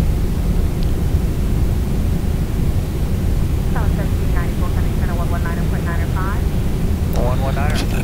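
Steady, loud broadband roar of an airliner's engines fills the cockpit throughout the takeoff climb out of LAX, with brief tonal beeps and radio-like chirps sounding faintly over it late on.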